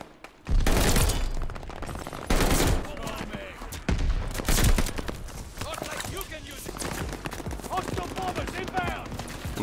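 Heavy, sustained gunfire bursts from a ball turret gunner in Call of Duty Vanguard, loud rapid volleys that come in several waves with brief gaps, and someone talks over the shooting.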